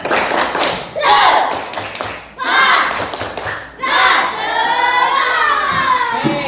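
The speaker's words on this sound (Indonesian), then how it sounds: "Tepuk semangat." A class of Indonesian schoolchildren claps together in quick rhythmic bursts, mixed with chanting voices and shouts from the lively group.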